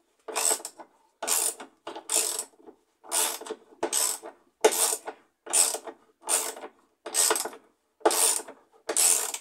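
A ratcheting hand tool works a screw on a washing machine, giving about a dozen short, evenly spaced bursts of rapid clicking with brief silences between, near and clear.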